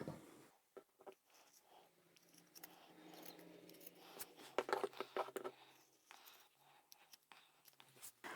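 Scissors snip through fabric cut from an old men's tie, a run of close, quiet crisp cuts and rustles that come in short bursts, with a few louder snips toward the end.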